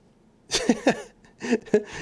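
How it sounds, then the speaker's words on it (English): A kitten meows and paws at a microphone, making a few close, short rustling bumps and soft cries in two brief bursts against near silence. "New kitty Lorenzo is trying to play with the mic"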